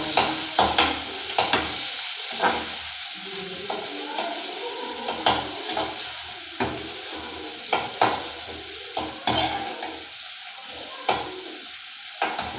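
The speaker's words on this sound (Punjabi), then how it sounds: "ਹੁਣ ਆਪਾਂ ਪਾ ਲਾਂਗੇ ਪਿਆਜ਼ ਕੱਟੇ ਹੋਏ ਇਹਨੂੰ ਹਲਾ" Chopped onions fry in oil in a pan for a macaroni dish, a steady close sizzle broken by repeated scraping stirs of the spatula at irregular intervals, with no voices.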